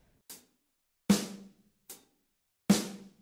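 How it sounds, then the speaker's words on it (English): Four sharp drum hits alternating, lighter hi-hat ticks with heavier snare cracks, in a steady slow quarter-note back beat, played alone without talk. "let's put the snare and the hi-hat together."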